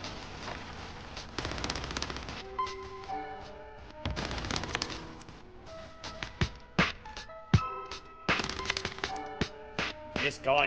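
Gunfire in Modern Warfare 3 ranked play comes as rapid bursts and single cracks, some dense, some sparse, mixed with game effects. It runs loud and close throughout, with players talking faintly underneath.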